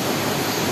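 Düden Waterfall in Antalya's Muratpaşa district pours beneath fig trees, a dense, continuous rushing roar of falling water, loud and close, filling the whole brief moment without any voices.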